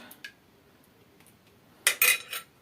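A spoon spreads sauce over a sheet of yufka pastry for cheese börek, a few light metallic scrapes and clinks near the end after a quiet stretch.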